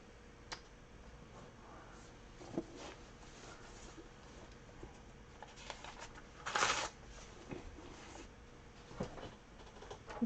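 Sheets of craft paper are handled and shuffled in soft, scattered rustles and light ticks, with one louder crinkle partway through, all quiet and close, with no speech.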